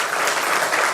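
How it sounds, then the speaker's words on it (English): A dense, loud round of applause from a large audience at a live youth conclave in Delhi, sustained and even throughout the brief moment. "a huge round of applause"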